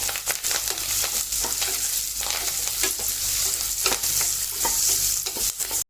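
Chopped onion sautés in a pan of cumin-tempered oil for a village-style crab curry, a loud continuous sizzle with repeated scraping stirs throughout, close and without speech.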